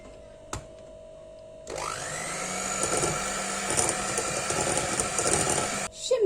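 An electric hand mixer beating cocoa into cookie dough, switching on after a short quiet moment with a rising whine, then a steady close motor drone with bumps and clatter from the beaters in the bowl before cutting off.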